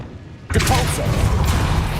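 Depulso force spell in Hogwarts Legacy: a sudden whooshing thump starts mid-clip and rolls into a sustained noisy rush over game ambience, loud and close.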